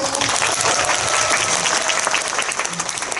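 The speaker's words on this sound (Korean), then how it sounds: "박수." Audience at a live talk event for the Korean film The King with actor Ryu Jun-yeol breaks into brief, loud, continuous applause that stays full throughout.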